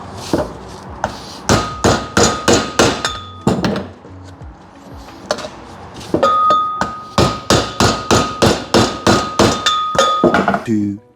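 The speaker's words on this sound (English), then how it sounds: "It'll give us better access to hit it with the hammer and chisel." Repeated sharp hammer blows on a chisel against a BMW E46 driveshaft part, struck in quick rhythmic bursts with brief pauses, close and loud with metallic ringing.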